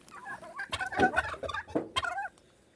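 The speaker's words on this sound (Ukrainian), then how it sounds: "Індики тут ходять." Turkeys gobble in rapid, warbling bursts, several birds overlapping nearby for a couple of seconds before falling quiet.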